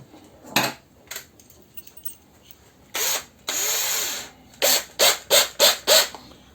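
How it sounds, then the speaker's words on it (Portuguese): A power drill bores holes in wood for a small spice niche in a woodworking class, with short whirring bursts, one longer run, then five quick pulses at close range. "Agora a gente só termina de furar e começa a parafusar"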